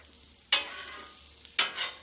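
A cheeseburger sizzles on an outdoor grill, a steady soft frying hiss broken by two sharp bursts of louder sizzle, like patties being pressed or stirred, with no voices.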